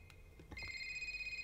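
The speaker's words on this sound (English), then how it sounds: "The phone's ringing." Telephone ringing inside a Roblox horror game styled after Five Nights at Freddy's, a steady electronic ring that starts after a few soft knocks and holds on at moderate loudness.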